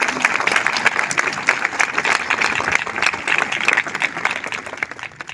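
Dense, steady audience applause fills the room for over five seconds, with many hands clapping together at a fairly loud, even level.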